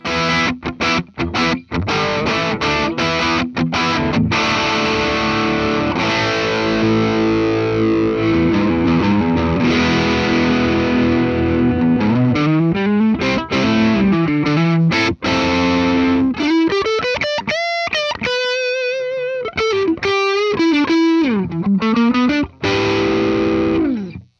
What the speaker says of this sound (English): how do the pickups do with some distortion?